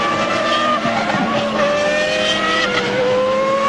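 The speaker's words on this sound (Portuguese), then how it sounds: "Schumacher manda o pé para baixo e aí fala bem alto o motor Renault" A Renault V10 Formula 1 engine at the 1995 Japanese Grand Prix screams at high revs, a loud, sustained whine with gear-shift steps and tyre noise, heard trackside with no talk over it.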